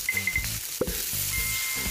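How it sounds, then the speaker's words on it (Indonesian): An egg frying in a pan with a steady close sizzle, broken by a few clinks and stirring clatters, and a faint tonal hum in the background. "Dia menggoreng telur."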